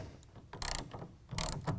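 A ratchet tightens a clamp on a BAKFlip MX4 tonneau cover on a 2019 Ram 1500, making two short bursts of quick clicking close by, with softer taps between.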